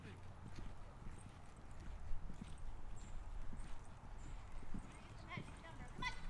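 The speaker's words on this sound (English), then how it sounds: "What a good honorable horse." Horse hooves clip-clop steadily at a walk during a riding lesson, with a rider in the saddle, the beats soft and fairly close under occasional instructor talk and low background noise.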